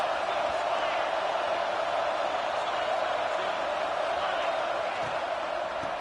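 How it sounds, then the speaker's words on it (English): A huge American football stadium crowd roars continuously and loudly, a dense, unbroken wall of cheering and noise with no pauses. "Listen to this crowd just shaking the girders of this place, trying to help their defense."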